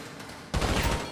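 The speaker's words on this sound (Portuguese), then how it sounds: "Dá pra dar uma sequência de tiros" Gunfire rings out at the shooting range in GTA V: a sudden burst of rapid, loud shots starts midway and rattles on to the end.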